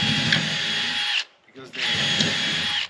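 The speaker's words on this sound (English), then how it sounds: "I'm going to pre-drill through the plywood" A power drill pre-drills through plywood in two sustained whining runs, separated by a short pause, loud and close.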